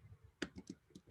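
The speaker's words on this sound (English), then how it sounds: "Man, my typing sucks today." Quiet keyboard typing, a few light irregular clicks in a quick burst with no talking.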